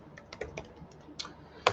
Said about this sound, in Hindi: So I am just typing there.